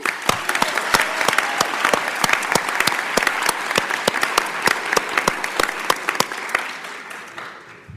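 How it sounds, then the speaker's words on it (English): Audience applause for a high school robotics team at a school board meeting after a student showcase, a dense, steady clapping crowd with sharp individual claps standing out, sustained for several seconds before fading slightly. "Let's give the high school robotics team a big round of applause."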